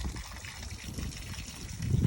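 Water trickles and gushes steadily through engine muffs on a boat's outboard before start-up, a continuous close liquid rush that swells slightly toward the end.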